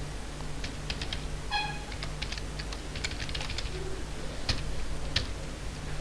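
Steady clicking keystrokes on a computer keyboard as code is typed, a run of quick taps with short pauses, close and clear over a faint hum, with a bird cooing softly in the background.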